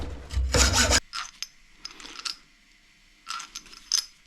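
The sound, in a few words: cutting a steel nut on a Maserati Ghibli GT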